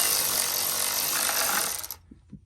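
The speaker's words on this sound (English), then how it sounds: "the electric ratchet, put it in snug, not too tight" An electric ratchet snugs a bolt on a 2009 Lexus IS250, a loud continuous whirring buzz for about two seconds that cuts off abruptly, leaving a couple of soft clicks.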